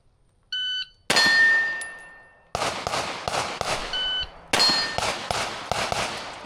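Gunshots at a competition shooting match striking steel targets: a timer beep, then several sharp cracks, each followed by a ringing metallic clang, loud and close with reverberant decay and no talk.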